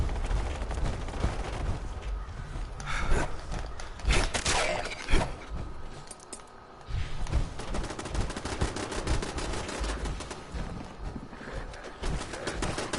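Automatic turret gunfire in Fallout 76, rapid bursts of shots crackling over a dense, busy game soundscape, fairly continuous with brief pauses, no talking.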